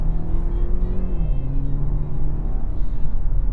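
A 2017 Audi A4 Ultra accelerates off the line, its engine a steady close rumble that drops in pitch at a gear change and then climbs again.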